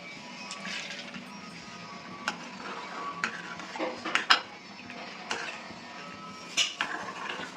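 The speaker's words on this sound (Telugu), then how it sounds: "ఈ నెయ్యి హీట్ అయిపోయిన తర్వాత క్యాష్యూ నట్స్ ఫ్రై చేస్తున్నాను" Cashew nuts frying in homemade ghee in a metal pan, stirred with a spoon, giving soft sizzling under light scraping and occasional sharper clinks of utensil against the pan, close and fairly quiet.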